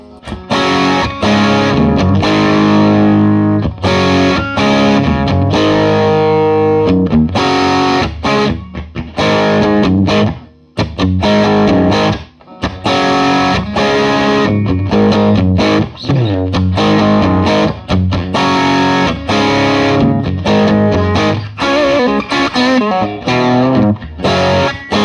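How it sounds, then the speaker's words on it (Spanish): Electric guitar on its bridge single-coil pickup driven through a Wampler Dual Fusion overdrive pedal, a loud, continuous distorted riff with chords and picked notes and a couple of brief pauses, played alone without talk. "Sonido de puente bien clásico y bien single coil."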